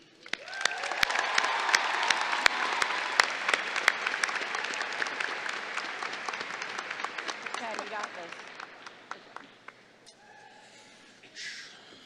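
Sustained audience applause at a university College of Liberal Arts & Sciences commencement ceremony, a dense roll of many hands clapping with a few whoops. It slowly thins to scattered claps, and a voice comes in at the end.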